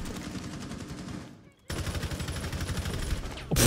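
Rapid automatic gunfire in a shooter video game, bursts of closely spaced loud shots that stop briefly and then resume before a harsher blast at the end.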